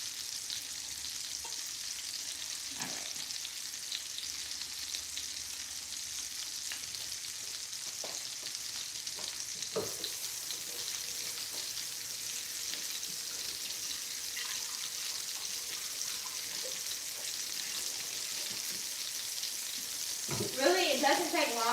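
Steady, soft sizzling of meatballs frying in a pan, continuing evenly throughout, with a few faint clinks and a brief rustle near the end.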